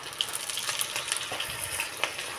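Kebabs slipped one at a time into well-heated oil give off a dense, steady sizzle with crackly pops and a couple of sharper spatters, close and fairly loud, with no voices.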